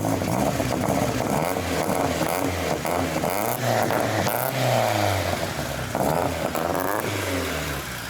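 A loud BMW car engine revs up and down repeatedly, its pitch rising and falling over a steady roar, close by with no talking.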